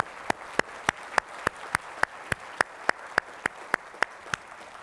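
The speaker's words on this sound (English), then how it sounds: "I think they deserve a big round of applause for everything." Steady, evenly spaced hand claps at a keynote event, about three or four per second, sharp and fairly close, with no talking over them.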